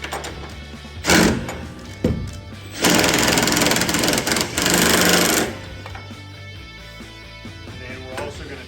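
An impact driver hammers a nut tight on a queen-size Murphy wall bed frame, with two short bursts followed by a longer rattling burst of about three seconds, loud and close, with light handling noise between them.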